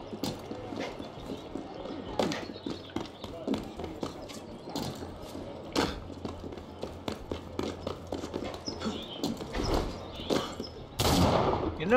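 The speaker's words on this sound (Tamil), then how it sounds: "எல்லாரையும் துப்பாக்கியாலே சுட்டு கொண்டு இருக்கிறான்." Gunshots from the video game Assassin's Creed Unity in four-player co-op, sharp scattered cracks mixed with clattering hooves and footsteps, with people talking throughout.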